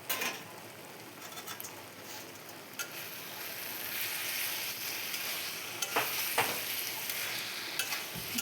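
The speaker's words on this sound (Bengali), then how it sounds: "তারপর আমি আলুটা আর সয়া সসটা ভালো করে মশলার সঙ্গে মিশিয়ে নেব, কষিয়ে নেব সবজিটা।" Potatoes, vegetables and soy sauce sauté in a pan with spices and four green chillies, producing a dense, continuous sizzle that grows slightly louder midway, with occasional clicks of stirring and no voices.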